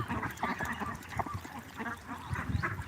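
A flock of ducks on a duck farm quacks in an overlapping, busy chorus close by, with no talking.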